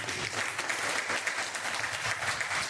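Audience clapping at an advance training seminar, a steady, even round of applause from a seated group, fairly faint and continuous throughout.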